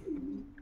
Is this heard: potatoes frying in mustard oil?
no